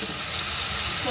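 Masala frying in oil in a pan, a loud, steady sizzle with constant bright hiss throughout, no pauses or voices.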